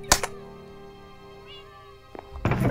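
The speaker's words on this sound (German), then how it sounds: "Katzen, hört mal auf hier rumzumiauen" Cats in the Minecraft video game meowing, a sharp close meow at the start, a faint mew in the middle and another loud meow at the end, over a quiet steady game hum.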